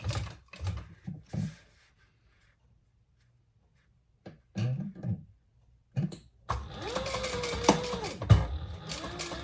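A sewing machine stitches two rows along the folded, heat-sealed edge of a messenger bag, with short bursts of rapid mechanical whirring and pauses between them, close and fairly clear, ending in a longer continuous run.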